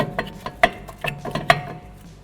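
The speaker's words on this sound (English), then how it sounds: "I'll bring that bolt in from further this way so I can get a good hold on it with the socket." A socket wrench turns a rotor bolt in a run of sharp metallic ratchet clicks, several distinct close ticks in an uneven rhythm over about two seconds, with no talk.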